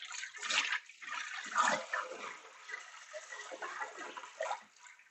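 Water pours out of the reservoir of a homemade water regulator for a T500 as it is emptied, a steady rushing, splashing flow at close range that swells and eases over several seconds with no one talking.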